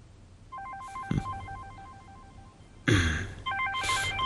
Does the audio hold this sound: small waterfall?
no